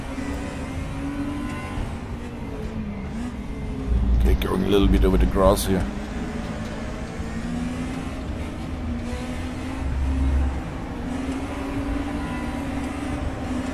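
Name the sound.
old DTM race car engines in RaceRoom VR video game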